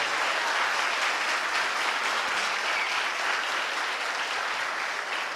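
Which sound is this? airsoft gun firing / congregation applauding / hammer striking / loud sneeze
congregation applauding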